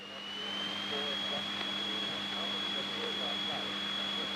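A light aircraft piston engine holds steady at about 1700 RPM during a flight lesson, a loud, close, continuous drone with a high whine slowly rising in pitch through the cabin.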